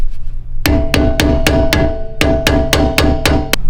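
Metal-on-metal hammer blows on a part of a Honda Fit rear suspension during a camber plate install, about a dozen sharp ringing strikes in a steady rhythm, close and loud, with a brief pause midway.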